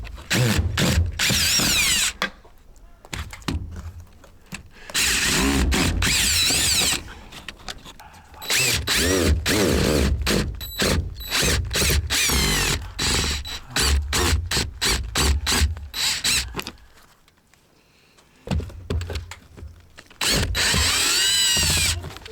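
Power drill running in short and longer bursts with brief pauses between, working inside a salvaged mobile home under rebuild, its bit clogging with gunk; close and loud, with no talk.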